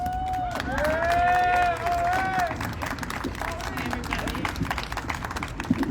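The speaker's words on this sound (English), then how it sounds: "let's give it a round of applause" An indoor crowd at a Take Back The Night event in Denver claps and cheers for an organizer, dense applause that gradually thins, with voices mixed in.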